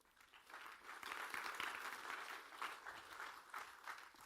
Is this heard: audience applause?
yes